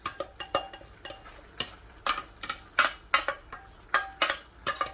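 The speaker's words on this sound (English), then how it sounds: "So just move that aside and mix your onions into your lentils" A spoon stirs fried onions into cooked lentils and rice for Greek moutzentra, giving irregular, sharp scraping clicks against the pot with a light sizzle beneath, close and clear with no talking.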